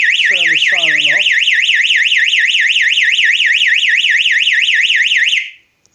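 A 12-volt electronic siren wails loudly and steadily in a rapid rising-and-falling warble, with a brief low voice underneath near the start, then cuts off abruptly near the end.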